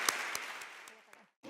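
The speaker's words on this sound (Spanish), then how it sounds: "Un aplauso para la catedrática Yoshimi Hiroyasu." Audience applause at a Spanish-language academic conference, soft and scattered with a few sharp claps, fading out to silence before a voice starts speaking at the end.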